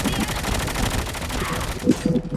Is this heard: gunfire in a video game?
yes